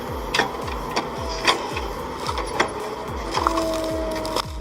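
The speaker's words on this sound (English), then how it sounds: "This stump shear doesn't ask politely. It clamps, twists, and lifts like a hydraulic beast." A hydraulic stump shear clamps, twists and lifts a tree stump amid machinery working on trees, a steady mechanical drone with a rhythmic repeating pulse and sharp cracking snaps of wood at intervals.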